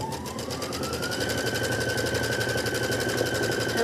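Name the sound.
embroidery sewing machine stitching placement line for batting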